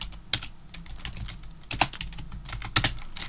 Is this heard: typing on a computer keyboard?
yes